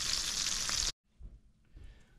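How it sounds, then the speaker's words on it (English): Loud, steady sizzling of seasoned fish nuggets frying in hot oil in a skillet, which cuts off abruptly and leaves faint kitchen noises. "I already have some on the skillet frying."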